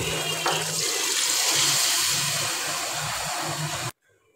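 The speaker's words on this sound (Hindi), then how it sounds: "अब हम इसमें पानी ऐड कर देंगे।" Water pours into a cooking pot of chana pulao with chickpeas and yogurt, a steady loud splashing rush with low bubbling that continues for about four seconds and then stops abruptly.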